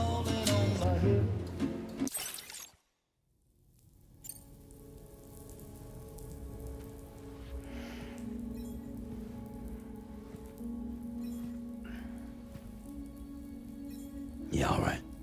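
Steady rain falls in the video game Death Stranding 2, a continuous patter of drops under game dialogue and a man singing along.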